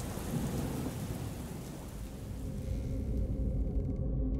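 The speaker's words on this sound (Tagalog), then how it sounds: "Nakakagulat ang kulog." Loud thunder rolls through a heavy rainstorm, a continuous deep rumble over steady rain that swells again toward the end, with no voices.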